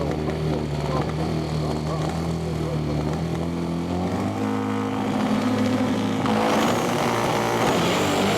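Front-wheel-drive drag race cars in a 2015 competition clutch series launch off the line together, a loud sustained engine roar that climbs in pitch through gear changes and surges brighter near the end.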